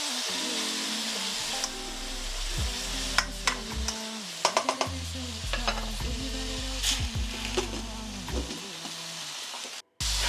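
Ingredients for a vegetarian pilau sizzle and crackle steadily as they brown in a pan, with occasional stirring clicks under background music.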